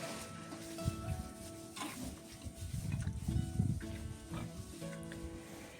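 Young pigs let out to roam in a small village farmyard give scattered low grunts and snuffles, moderately close but fairly quiet, with no speech.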